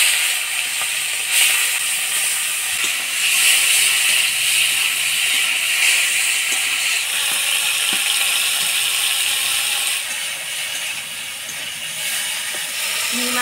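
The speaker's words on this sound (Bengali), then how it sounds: "এবার চিংড়ি মাছগুলো ভেজে নেব।" Shrimp frying in oil, a continuous close hiss and sizzle with faint crackles and light clicks that runs steadily without talk.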